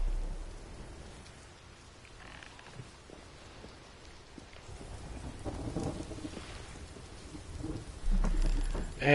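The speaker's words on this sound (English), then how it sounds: "And there's the rain and seagulls." Steady rainfall with low rumbling thunder plays in the fishing video game Fishing Barents Sea, a soft continuous wash that swells toward the end.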